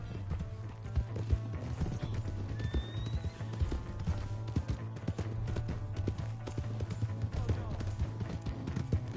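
Horse hooves galloping in Red Dead Redemption 2 on PS4, a steady rapid clatter over a low hum of game music, with a brief whinny and voices speaking intermittently.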